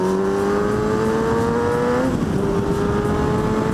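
An old motorcycle engine revs up as the throttle opens, a loud, close, rising drone that climbs steadily in pitch and then drops back slightly partway through.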